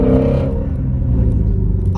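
A naturally aspirated flat-plane-crank V8 car engine revs steadily while driving, a loud continuous rumbling drone with a rising and falling pitch, close and sustained throughout.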